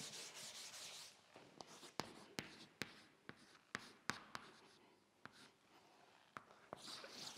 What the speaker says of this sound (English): I'll write this for you here.